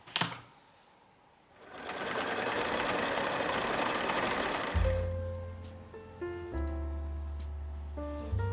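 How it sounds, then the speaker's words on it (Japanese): A sewing machine stitches embroidery onto patchwork fabric for a remade child's skirt, starting with a click, then running in a steady close mechanical whir before slowing into short bursts and pauses, with no talk. "少しミシンで刺繍を入れようかな。"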